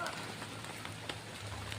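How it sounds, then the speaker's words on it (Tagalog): Steady rain patters on a surface, a continuous hiss with scattered drops and a low rumble beneath. "Kasi umuulan na naman."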